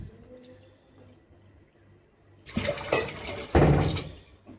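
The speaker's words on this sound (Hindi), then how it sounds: "तो और भी भर लूँगी मैं इसमें पानी" Water splashes and pours in a few loud bursts after a quiet, low hum, like water being poured into a container nearby.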